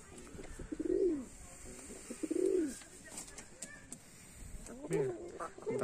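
Tumbler pigeons cooing in a pigeon loft, several soft throaty coos rising and falling in repeated phrases, close and moderately loud, with some chirps and background noise.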